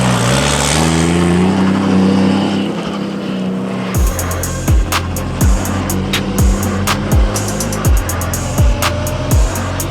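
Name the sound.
S58-engined Toyota GT86 race car doing straight runs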